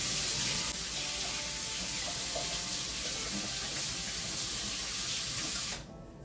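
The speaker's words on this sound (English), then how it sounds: "I'll quickly wash my hands." Tap water runs in a steady, close hiss while hands are washed partway through making pepperoni roll dough, then the flow cuts off abruptly just before the end.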